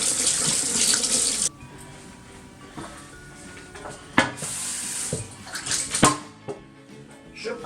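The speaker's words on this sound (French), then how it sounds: "je me lave les mains" Kitchen tap runs hard for a moment while hands are washed, then shuts off, leaving soft clatter and rustling from a kitchen where stuffed tomatoes are being made.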